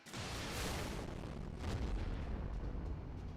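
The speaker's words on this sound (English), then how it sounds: "I think that calls for another cannon blast" Cannon blast in a video game: a loud, broad roaring explosion with a second surge of booming rumble midway, sustained noise filling the whole moment without any voices.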